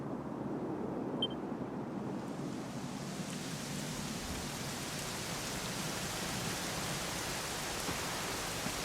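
Steady rainfall in the video game Dragon Quest XI S, a continuous hiss that swells in after the first couple of seconds and holds evenly, soft and without voices.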